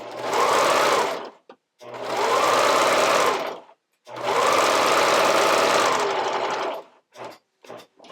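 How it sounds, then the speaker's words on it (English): A sewing machine zigzag-stitches the neckline of a camisole in three loud, close bursts of rapid mechanical whirring, each a couple of seconds long, separated by short pauses and followed by a few faint clicks. "I'm going to use a zigzag stitch, and I'm going to just zigzag it directly onto the neckline"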